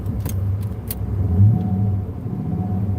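A VU SS car engine runs steadily in a yard with a deep, close rumble, swelling briefly as it revs before settling back to idle, with a few light rattles near the start.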